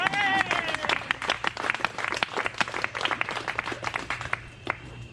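Guests at a party for Caro and Mich applaud, many hands clapping in a fast, crisp patter that carries on steadily at moderate volume, with a voice heard briefly at the start.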